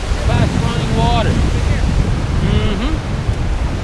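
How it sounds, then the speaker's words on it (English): Fast-running water rushes continuously beside a waterfall, loud and close, with heavy wind buffeting the microphone and voices talking over it. "We're right here beside the fast running water."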